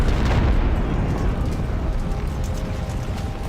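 Artillery bombardment in the Civil War strategy game Ultimate General: Civil War, a dense rolling roar of distant booming blasts that overlap into a continuous loud rumble with no break.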